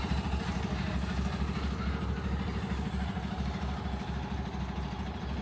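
A Mascarello Roma MD bus on a front-engined Volvo B270F chassis with an MWM engine idles at Curitiba bus station, giving a steady, close diesel rumble with an even throb that continues unbroken.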